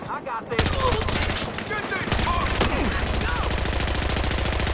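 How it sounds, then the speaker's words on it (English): Sustained automatic gunfire in Battlefield Hardline during a gas station ambush, loud rapid rattling bursts that run continuously with short gaps and overlapping weapon sounds. "Oh, he's shooting me!"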